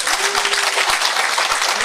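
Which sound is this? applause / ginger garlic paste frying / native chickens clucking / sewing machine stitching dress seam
applause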